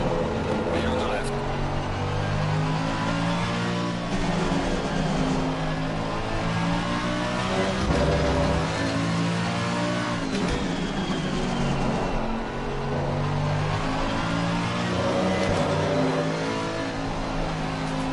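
GT race car engines in Assetto Corsa Competizione roar continuously during a 24-hour race at Spa, with repeated rising and falling revs through gear changes and a steady close engine drone, while a voice talks over it.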